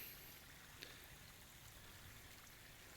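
Gentle trickling water of a small waterfall stream flowing down from the forest into a garden channel, a soft continuous splashing patter heard fairly quietly with no voices.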